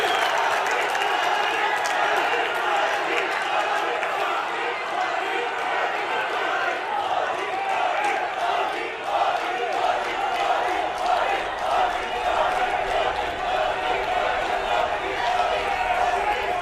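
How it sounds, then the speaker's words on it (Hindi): A large outdoor rally crowd in Dehradun, Uttarakhand claps and cheers loudly for Prime Minister Modi, a dense sustained roar of applause that keeps steady across the whole stretch. "एक बार जोरदार तालियां माननीय प्रधानमंत्री श्री मोदी जी"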